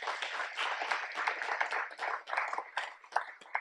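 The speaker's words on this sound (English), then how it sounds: "Let's give them another round of applause." A short burst of audience applause at a campus completion celebration, many hands clapping in a lively uneven patter that rises and thins over nearly four seconds, heard fairly close and without speech.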